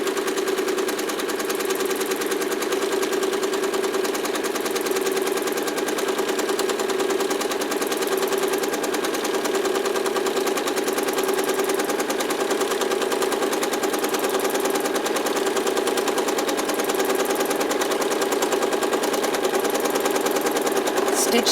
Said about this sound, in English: I'm going to push my foot pedal all the way down and stitch along the seam line